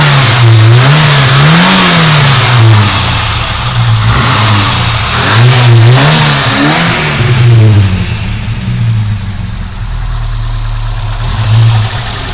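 A classic Ford Capri Laser 1.6 engine revs loudly and repeatedly, climbing and falling in bursts before settling to a steady idle, heard up close at an outdoor British car meet with no talking.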